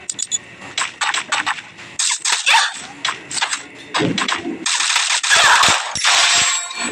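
Gunfire in the Free Fire video game crackles in rapid, loud bursts of shots, dense and irregular, with short pauses between volleys.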